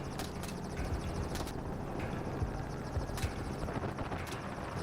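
A helicopter flies during a wild boar hunt, its steady rotor thrum droning continuously at moderate distance, with a few sharper cracks or thumps cutting through the hum.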